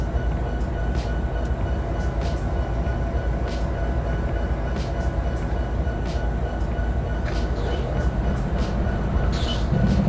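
A freight train led by Union Pacific, BNSF and CSX locomotives rolls steadily past a crossing in Trainz Railroad Simulator, a constant loud rumble of wagons with faint clicks and squeals on top.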